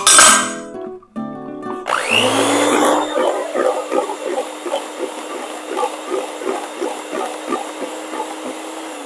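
Pound cake batter being mixed with an electric mixer, a steady whirring motor with rhythmic beating pulses through the bowl, close and continuous after a brief clatter at the start.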